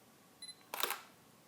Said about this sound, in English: louder shutter. That's the mechanical shutter.